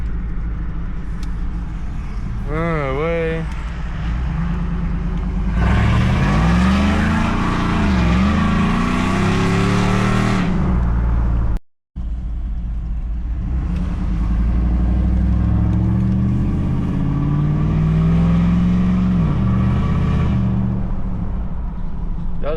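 A GMC truck fitted with Scat Pack mufflers revs hard twice, its loud, throaty exhaust rising and falling in long surges with a brief cutoff between them, close by, with a short spoken exclamation.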